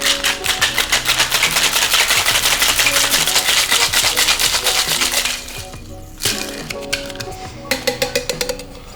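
Ice rattles hard inside a large cocktail shaker tin, struck in a fast, steady rhythm for about five seconds, then pauses, and a few looser clinks and knocks follow, loud and close.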